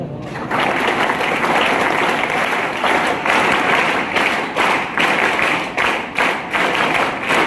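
An audience at a school farewell and award ceremony applauds a departing teacher, loud sustained clapping that breaks into several rhythmic bursts of group claps, with no talk over it.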